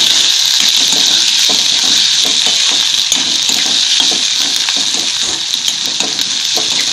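Tomatoes sauté in a hot pan for daal kanda, a Maharashtrian lentil and onion dish, giving a steady, loud, close-up sizzle with light stirring scrapes and no talking.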